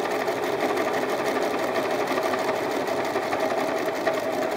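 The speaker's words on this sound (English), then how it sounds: "Sew along the bottom edge" Sewing machine running steadily as it stitches along the bottom edge of a beginner's bean bag, a continuous close, even whir with rapid needle rhythm and no pauses.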